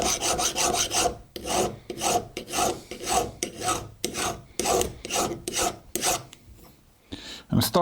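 A hand file rasps across the edges of metal parts on the bench, cutting a small chamfer on every exposed edge. About a dozen steady, close, even strokes with brief pauses between them, and no talking.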